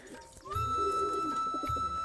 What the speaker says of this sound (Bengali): সিরাজি লাহোরি খুবই উন্নত মানের কবুতর।